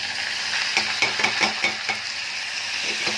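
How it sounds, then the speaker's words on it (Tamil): Spices, curry leaves, onion and green chillies crackle and sizzle in hot oil nearby, with a spoon scraping and stirring the pan in short strokes. "எல்லாம் போட்டு தாளிக்கிறேன்."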